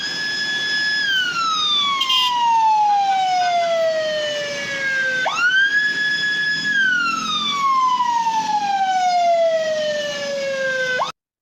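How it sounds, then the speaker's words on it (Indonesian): An ambulance siren wails loudly and continuously, sweeping down in long falling tones, jumping back up near the middle and sliding down again, with no talk over it. "jadi suara sirene mobil ambulans adalah salah satu contoh penerapan bunyi menyebar ke segala arah"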